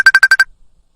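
A telephone rings with five rapid electronic bursts in a tight, even rhythm, loud and close, then cuts to silence with no voices.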